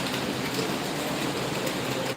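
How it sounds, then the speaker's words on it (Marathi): Monsoon rain comes down hard in a loud, unbroken wash of noise, steady and near for the whole stretch. "इथे पण पडतोय पाऊस"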